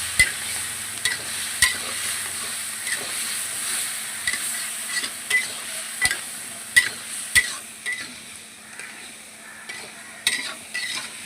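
Soybean chunks fry in a pan under a low, constant sizzle while a spatula stirs them, giving sharp scraping clicks at an irregular pace, some louder than others.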